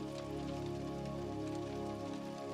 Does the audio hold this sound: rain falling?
yes